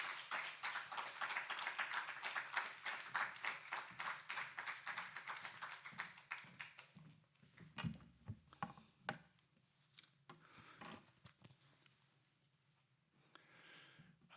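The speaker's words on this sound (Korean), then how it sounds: "우리 보내어 주신 하나님께 감사의 박수로 맞이하도록 하겠습니다" Applause welcomes a speaker at a church prayer gathering: dense, steady clapping from a crowd of people for about seven seconds, then it thins out into a few scattered claps and taps.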